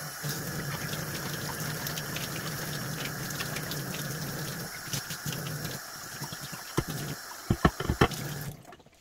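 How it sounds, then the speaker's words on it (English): Warm water without soap rushes steadily into and around a plastic RODI filter housing being rinsed, a continuous gushing flow that thins out near the end into a few splashes and drips. "We'll wash it out without any soap."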